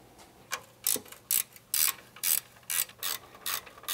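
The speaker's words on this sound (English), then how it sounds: "We're gonna lower the suspension down by loosening the top three 14 millimeter nuts." Ratchet wrench loosening the top 14 mm suspension nuts on a Lexus GX470 during a shock install, a steady series of about nine loud ratcheting clicks in even strokes, close up with no talking.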